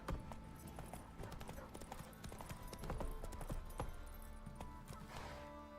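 Horse hooves gallop in a fast, steady rhythm in The Witcher 3, with occasional harness jingles and no talk.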